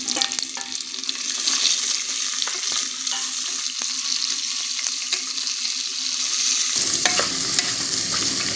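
Onion, garlic and green chilli frying for ghee rice give a loud, continuous sizzle with frequent stirring scrapes and clinks of a spoon against the pan, close and steady, with no talking.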